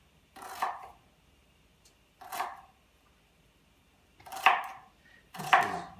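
A knife mincing ginger root on a cutting board gives four separate sharp chops, spaced irregularly with quiet gaps between them, close and moderately loud.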